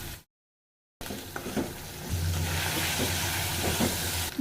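Chicken goes into a pan of fried onion paste and garam masala and sizzles, a dense, close hiss that swells after a short silence and carries a low steady hum beneath.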